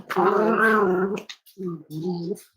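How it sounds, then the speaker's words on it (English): A Cavalier puppy growls up close in a long rumbling, whiny stretch, then pauses and gives two shorter growls. "Don't growl at me."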